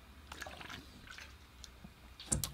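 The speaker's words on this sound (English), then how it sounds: "Just going to take a quick drink of water here." Quiet, close sips and swallowing as someone drinks water, soft wet mouth sounds, then a sharper clunk near the end, probably a cup being set down; no talking.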